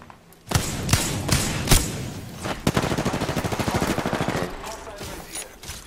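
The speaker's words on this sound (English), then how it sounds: "Getting shot at." Rapid gunfire from the video game Apex Legends: heavy shots thump out in bursts, then a sustained automatic stream rattles evenly for a couple of seconds, loud and close.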